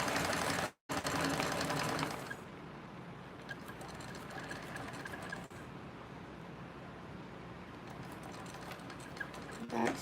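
A sewing machine top-stitching an eighth of an inch along the edge of straps runs steadily and close up for about ten seconds, with a brief drop-out near the start.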